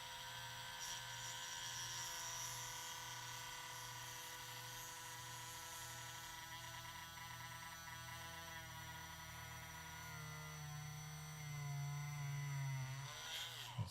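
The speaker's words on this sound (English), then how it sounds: "Let's see if we can't drill through here" A power drill whines steadily and continuously at close range, its motor pitch wavering slightly and rising in strain near the end.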